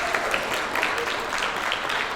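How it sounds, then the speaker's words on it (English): Student musicians at a high school strings workshop give a short burst of applause, a busy, even patter of many hands filling the room, with faint voices underneath. "Let's give ourselves a round of applause."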